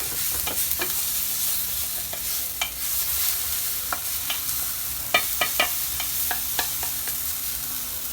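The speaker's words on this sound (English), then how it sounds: "We're going to cook our tomato paste out a little bit." Tomato paste and garlic sizzling in a hot pan, a steady crackling fry with sharp pops and spatters scattered throughout, close and fairly quiet, no voices.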